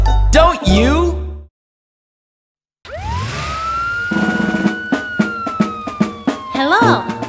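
A police car siren-like wail rises and holds steady, dipping near the end, over a rhythmic, bouncy children's song backing with singing.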